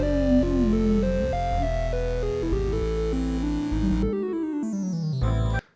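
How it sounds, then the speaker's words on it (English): Buzzy electronic chiptune square-wave tones play shifting chords and notes for several seconds, then cut off abruptly at the end. "And then the chords are being done by the square waves."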